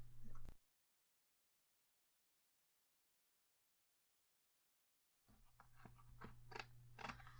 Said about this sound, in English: So here's where my craft knife comes in handy. I'm just gonna cut that off real quick.